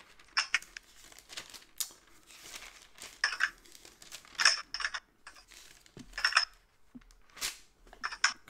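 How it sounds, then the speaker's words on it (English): Irregular bursts of computer keyboard typing during an online religious discussion call, clicky and fairly close, coming in uneven clusters with short pauses, no talk over them. "Can somebody mute instead of typing on the computer?"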